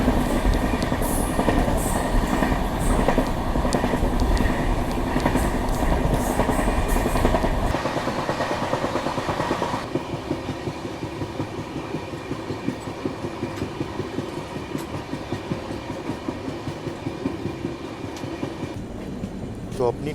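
The Danapur Secunderabad Express runs on rails in a steady rolling rumble with rhythmic clickety-clack from the wheels and the tone shifting partway through, loud and continuous throughout.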